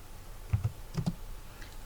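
A few quick presses on a computer keyboard while entering a name and date, heard as two short pairs of soft, close key taps against a quiet background.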